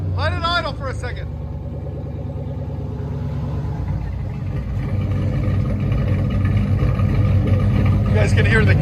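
A Chevy Camaro Z/28 with a 5.7L V8 running open straight pipes idles loud and close, a steady deep rumble that swells slightly, with voices talking over it near the start and end.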